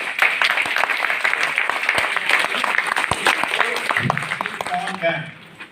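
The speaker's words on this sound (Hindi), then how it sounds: "एक ताली हो जाए।" A college workshop audience bursts into loud, sustained clapping from many hands, with crisp individual claps throughout; it thins out near the end as a voice begins speaking and then fades.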